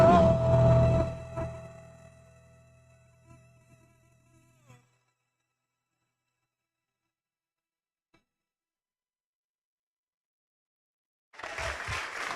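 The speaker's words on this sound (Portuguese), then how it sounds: "Vamos aplaudir mais forte o Senhor." A church congregation applauds during a worship service: loud clapping fills the first couple of seconds and fades into near silence, then a fresh burst of applause bursts in at the very end.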